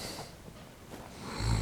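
A person snoring in slow rasping breaths, moderately close, a few soft cycles ending in a louder low snort.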